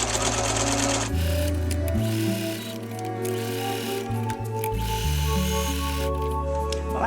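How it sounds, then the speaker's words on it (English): A sewing machine stitches a quilt along a drawn outline, its motor humming steadily close up in runs that stop and restart, changing speed between bursts, with no talking. "just start stitching and go around the outline first"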